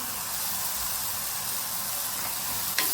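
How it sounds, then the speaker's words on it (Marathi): Brinjal (eggplant) curry sautéing in a pan gives a steady, close frying sizzle that runs unbroken throughout, with a brief scrape or clink near the end. "सगळं एकजीव झालं पाहिजे, मस्त असं परतून घ्या"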